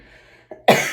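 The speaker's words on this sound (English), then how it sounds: "I'm really sorry about the cough" A single sharp cough bursts out close to the microphone after a faint short sound and near silence, loud and abrupt.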